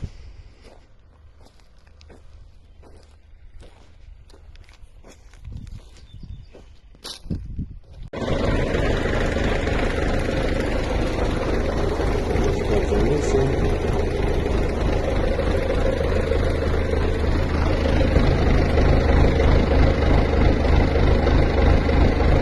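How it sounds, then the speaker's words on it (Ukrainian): Scattered footsteps and rustling in a cornfield, then a loud, steady diesel engine rumble comes in suddenly and holds as a tractor pulls up close for herbicide spraying. "ось під'їжджає трактор"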